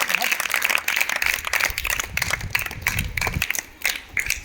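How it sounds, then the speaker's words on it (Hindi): A school morning assembly opens with a crowd of students clapping in a dense, uneven patter of sharp hand claps. Voices can be heard under and among the applause. "बिना समय गवाए हम लोग मॉर्निंग असेंबली की शुरुआत जोरदार तालियों के साथ करें।"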